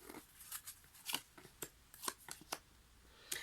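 Tarot cards being shuffled and drawn make a series of quiet, crisp papery flicks and snaps at irregular intervals, faint and close with no talking.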